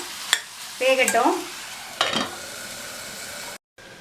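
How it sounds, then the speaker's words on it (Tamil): A chow chow (chayote) stir-fry is stirred in a pan, a few scraping, clattering spoon strokes over a faint steady sizzle, close and alone, before a brief dropout at the end. "மூடி வச்சாலும் அப்பப்போ திறந்து இந்த மாதிரி கிண்டி விட்டுக்கணும்"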